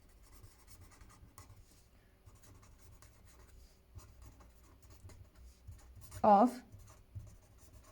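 Pen or marker writing on a surface during a tenth-class maths lesson, soft scratchy strokes under a woman's spoken explanation, with one brief louder squeak near the end.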